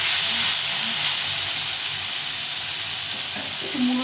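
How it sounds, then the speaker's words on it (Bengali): Boiled mixed vegetables with onion and radish frying in a pan for a vegetarian chorchori, a steady close broadband sizzle with no talk. "এখন এটাকে ভেজে নিতে হবে।"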